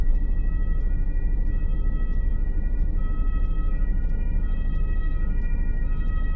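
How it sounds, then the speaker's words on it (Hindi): A steady, wailing ambulance siren holds continuous tones over constant low road rumble during a snowy drive in Darmstadt, Germany, with faint regular clicks above; no talking. "तो इस वक्त मुझे एम्बुलेंस की आवाज़ आ रही है"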